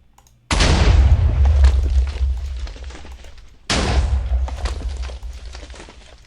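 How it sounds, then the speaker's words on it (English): Two heavy explosions go off in a Minecraft Forgecraft modpack game, each a loud, booming blast with a deep rumbling tail that slowly fades, the second hitting about three seconds after the first. "Normal explosions. Normal explosions."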